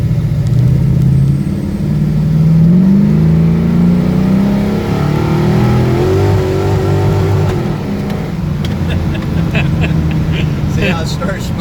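A 1968 Pontiac Firebird with a 455 tunnel-port engine accelerates hard, its loud, continuous roar climbing in pitch as the tires spin and smoke, with a rising whine and chattering toward the end.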